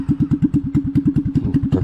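Alfa 50 moped engine running during a test ride, a steady rapid putter of firing pulses with a thumping, clattery exhaust note, loud and close with no talking.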